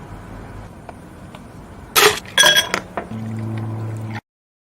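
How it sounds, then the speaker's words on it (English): 7-Up from an ad is poured into a glass: crisp clinks and a short splashy burst of liquid, followed by a steady fizzing hum that ends abruptly. "the drink pouring into the glass"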